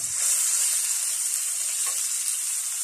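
Tomatoes frying in hot oil with ginger and garlic for a masoor dal tadka, a dense, even sizzle heard up close and steady throughout, with a brief stir near the end.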